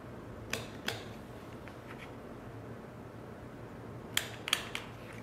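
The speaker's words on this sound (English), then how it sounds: "we're gonna cut these markings a half inch" Scissors snip fabric markings in a sewing session, a few faint, crisp cuts in two pairs, close but quiet over a steady low room hum.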